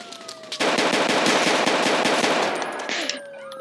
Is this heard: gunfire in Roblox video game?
yes